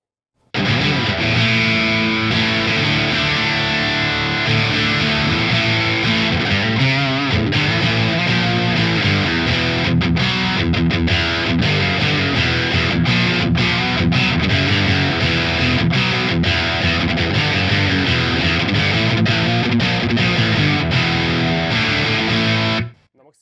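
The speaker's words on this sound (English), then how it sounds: "now it's time to turn on the distortion." Electric guitar played through an AMT Pangaea CP16A with distortion switched on, a thick, saturated tone sustaining steadily for over twenty seconds, with brief choppy breaks near the end before it cuts off.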